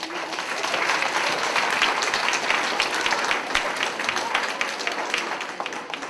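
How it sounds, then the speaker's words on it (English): Sustained applause from a large audience at a grade 4 school assembly, steady clapping at full volume throughout with a slight fade at the end. "Please give them a big round of applause."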